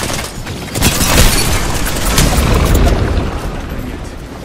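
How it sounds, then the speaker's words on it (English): Grenade blast in the Apex Legends video game, a loud, close, broad rumbling boom that rises quickly and holds for several seconds before slowly fading, with no voices. "Grenade out! Throwing grenade!"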